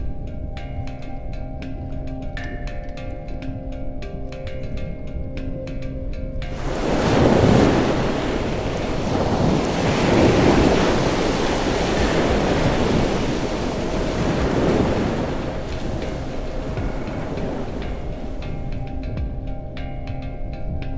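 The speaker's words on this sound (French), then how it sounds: "la vague mythique des Selvagens qui, tel un volcan sous-marin, explose véritablement au contact de la plateforme rocheuse" Ocean waves exploding against a rocky platform at the Selvagens islands: a sudden loud roaring crash of surf that swells, sustains with churning wash and slowly fades, with wind over the microphone.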